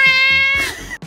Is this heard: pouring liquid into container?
no